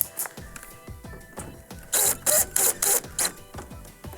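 A number 2 Phillips screw is driven into the control panel of a Whirlpool microwave: a steady run of close, rapid mechanical clicks, broken mid-way by several louder, harsh scraping bursts, with no voices.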